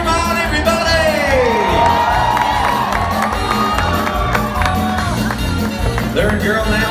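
Rodeo crowd at Dolly Parton's Stampede cheering and whooping loudly throughout as girls run barrel racing, with an announcer's voice talking over the steady roar.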